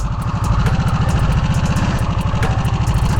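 A 2024 Harley-Davidson Nightster motorcycle idles close by with a steady, loud, even engine pulse and a few faint ticks over it, with no talk.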